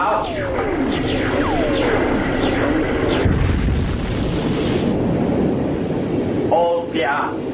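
Spaceship weapons fire in a science-fiction radio drama: descending laser-like zaps and whistles streak overhead in quick succession, followed by a dense, roaring explosive blast and a few trailing bleeps.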